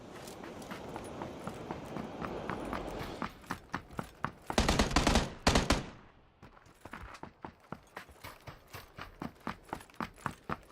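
Gunfire in a battle royale video game, with dense rapid bursts building to a loud volley midway, then a steady series of evenly spaced single shots and footstep-like thumps.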